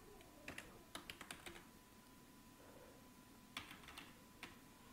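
Someone types on a computer keyboard while writing HTML table code in Visual Studio Code, making short bursts of crisp, quiet key clicks with gaps between groups, close to the microphone and with no talk.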